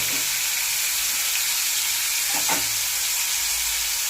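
Bitter gourd slices frying in oil with dry red chillies, a steady close sizzle throughout with a brief burst of stirring or spattering midway.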